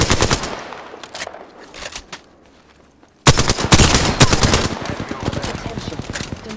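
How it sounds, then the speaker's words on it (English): Loud automatic gunfire erupts in a video game shootout: dense, rapid bursts that fade briefly, then return harder and continuous through the second half. "Start shots fired and they're hitting me."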